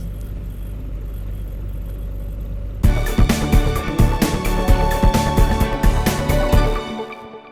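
Heavy snow-clearing machinery on a Moscow street, a snow loader feeding a dump truck, rumbling steadily before a loud burst of clattering, scraping engine noise kicks in and continues close by with rhythmic knocks.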